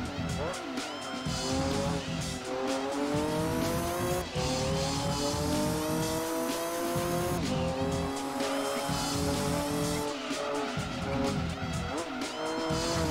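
Race car engine from Gran Turismo 2 drones and revs continuously with tire squeal and skidding, loud and steady throughout, a voice talking over it.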